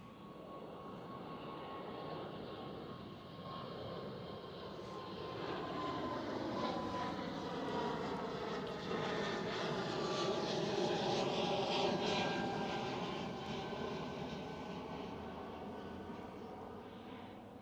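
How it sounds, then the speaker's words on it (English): An Air Baltic Airbus A220 jet at Schiphol, Amsterdam, passes with a loud, sustained engine roar that swells toward the middle, its whining tone bending in pitch as it goes by, with no talk. "That's Air Baltic Airbus A220 to start off the stream"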